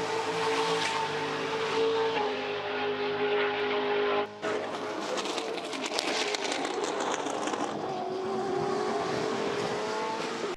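A Brabham BT62 race car's Ford-based V8 roars loudly and continuously, revving up and down through gear changes with a brief dip midway, a harsh high-pitched engine note close to the listener.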